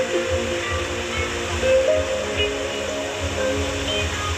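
Continuous rushing water from an 8-metre waterfall pouring into a wide clear pool in the Bukit Rimbang Baling forest, a steady broadband roar with no voices.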